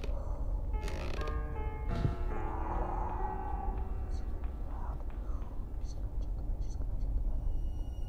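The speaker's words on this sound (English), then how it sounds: "So there are two squeaky floorboards right there." Squeaky floorboards creak in the horror game Granny, a long drawn-out wooden groan early on followed by softer scattered creaks, over a dense low rumble with whispery voice-like noise.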